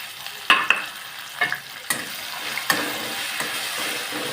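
Green chili thecha stirred in a hot pan for eggplant bharit, giving a faint sizzle broken by a few sharp scraping stirs of the spoon. No one speaks.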